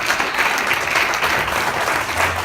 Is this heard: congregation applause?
yes